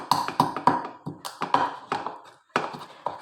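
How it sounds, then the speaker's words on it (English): Tiny seeds are pounded in a mortar, giving about a dozen sharp, close knocks in an uneven rhythm with short pauses between groups of strikes. "I'll make sure I pound it very well first."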